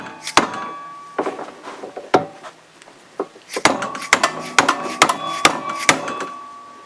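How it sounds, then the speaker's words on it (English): Repeated blows from an old, worn dead blow hammer knocking a U-joint yoke loose from its bearing on a Polaris Sportsman front driveshaft, in a vise; a dozen or so sharp, loud close knocks in irregular bursts with short pauses. "I'm just going to use my old beat up dead blow hammer here."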